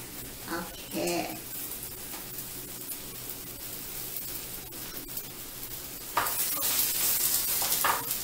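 A vegan Mexican burger patty sizzles in a pan with a steady, hissing crackle, growing louder near the end, while someone talks over it at moments.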